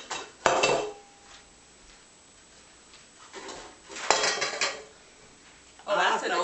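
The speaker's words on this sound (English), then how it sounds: "now we're going to do the pan preps" Metal baking pans for fruit cakes clatter and scrape as they are set out and handled, sharp clanks in separate bursts with quieter shuffling between.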